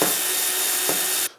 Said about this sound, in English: I'm going to drill the first one here